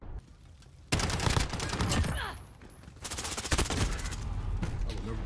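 Video-game gunfire in dense bursts of rapid shots, loud and close, with a pause in the middle before the firing resumes; faint voices sit under it.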